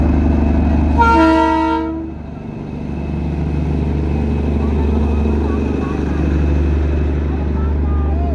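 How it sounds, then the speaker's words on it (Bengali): The Darjeeling toy train near Ghum sounds a clear, loud horn blast of about a second, then a steady low engine rumble follows as it draws in, with faint voices in the background. "দাঁড়াও, টয় ট্রেন আসছে, ওটা দেখে নিই।"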